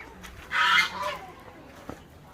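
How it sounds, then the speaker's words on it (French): A single loud nasal quack-like duck call rings out close by in a farmyard, followed by quieter rustling and a brief knock. "c'est du canard là-haut"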